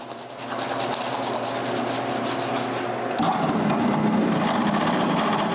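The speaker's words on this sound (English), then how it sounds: "I finish the cleaning with shampoo, water, and the toothbrush again" A toothbrush scrubs a carved wood picture with shampoo and water, making close, steady rubbing strokes with a rhythmic bristly rasp that shifts to a wetter, coarser scrub partway through, with no talk.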